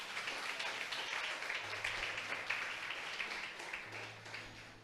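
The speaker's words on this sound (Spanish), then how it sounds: "¿Cuánto le aplauden, hermano?" A church congregation applauds in a dense, continuous wash of clapping, faint and somewhat distant, with a low hum in the room beneath it.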